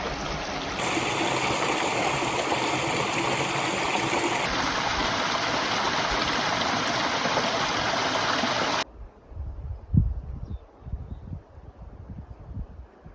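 A creek spilling from a small cave and running down to a little waterfall rushes in a steady, loud wash of water for most of the stretch, then drops to a quieter trickle with small splashes and rustling.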